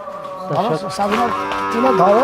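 Cattle at a cow market give a long, close moo with a rising and falling pitch that stretches across the whole moment, while someone talks faintly underneath.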